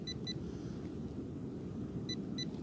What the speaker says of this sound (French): Plus le métal se rapproche et plus ça sonne.